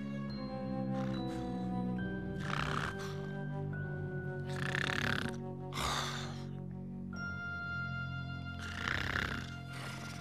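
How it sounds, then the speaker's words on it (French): A loud snore from a character in an animated series, repeating in rough breathy bursts every couple of seconds beneath continuous sustained music. "La pustule ronfle tout le temps!"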